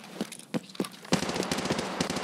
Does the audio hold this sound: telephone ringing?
no